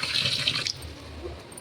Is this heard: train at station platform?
no